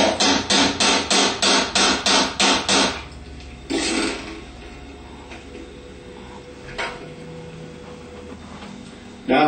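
A hammer taps a quarter-inch by six-inch extension held sideways to drive the rear bearing off a CS130 alternator during a rebuild: about ten quick, evenly spaced metallic strikes up close, then one louder knock and a faint clink.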